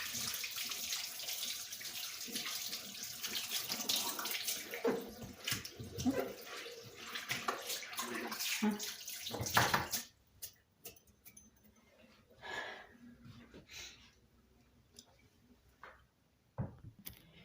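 Running tap water splashes over hands at a kitchen sink, a steady broadband rush for about ten seconds that then cuts off, leaving only scattered faint clicks and small knocks.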